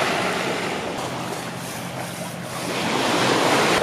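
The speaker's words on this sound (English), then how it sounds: "Very shelly beach here, right up Tessa's alley." Surf washing steadily onto a shell-covered beach at Bonita Springs, Florida, a continuous broadband wash of breaking waves with some wind rumble, swelling slightly louder near the end, with no voices.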